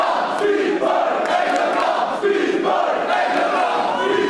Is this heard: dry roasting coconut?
no